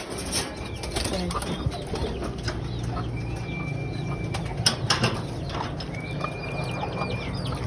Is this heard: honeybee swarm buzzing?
no